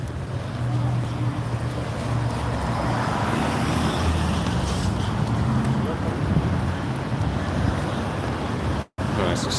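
Steady road traffic rumbles on a busy street near a station in the UK, a continuous wash of car and bus engine noise throughout with a brief dropout near the end.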